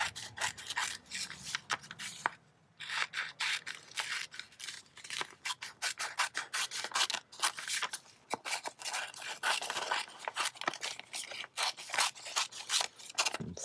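Scissors snipping through paper to cut out a mixed-media background, with a steady run of close, crisp cuts and rustling, one brief pause, and no talking.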